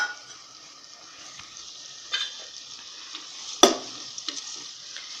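Cow tripe with green chillies sizzles softly in a pan, a low steady frying crackle broken by a few sharp spoon scrapes and clinks as it is stirred.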